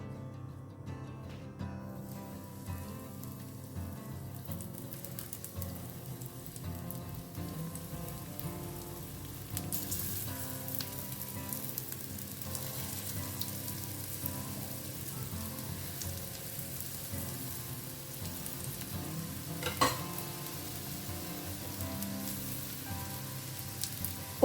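Prawn dangar cutlets fry in hot oil in a pan, Goan style, giving a steady soft sizzle and crackle that stays even throughout, with no talking.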